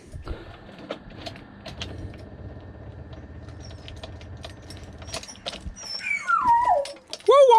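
A dog whimpers and whines in rising, wavering cries near the end, after a stretch of soft clicks and mechanical background noise in a garage with a Toyota KE70 car.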